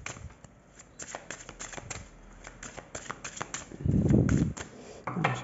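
A tarot deck is shuffled and cut by hand: quick papery flicks and riffles run steadily up close, then a thicker rustling shuffle near the end, with a quiet voice at moments.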